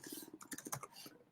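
Someone types a short burst on a computer keyboard, with a few separate key clicks followed by a quick run of taps, close and fairly quiet.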